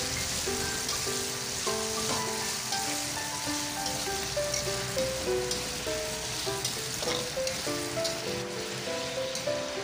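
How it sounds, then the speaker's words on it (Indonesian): Squid frying in hot cooking oil makes a continuous close crackling sizzle with popping bursts, while a melodic tune plays softly behind it. "Setelah minyak panas, kita masukkan cuminya. Kita goreng hingga kering."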